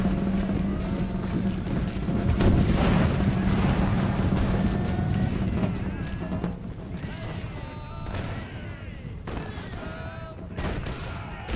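Cannon and musket fire rumble through a Napoleonic battle in the strategy game Imperial Glory, a dense, continuous roar of distant volleys and booms with sharper cracks scattered across it, under a speaking voice.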